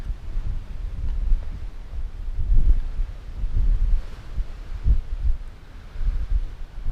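Wind gusts across an open Dartmoor ridge near Belstone, buffeting the microphone in low rumbling surges that rise and fall unevenly over a steady breathy background, with no voices.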